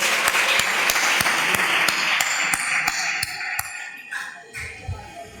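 Applause for children at a quiz contest, many hands clapping loudly and steadily with sharp individual claps standing out, then thinning and fading toward the end.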